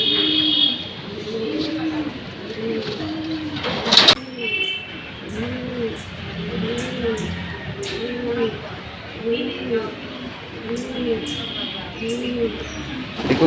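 A racing pigeon loft in Tangail is filled with repeated rolling coos from several pigeons in a steady rhythm, a sharp clatter sounding partway through, and someone speaking over the birds.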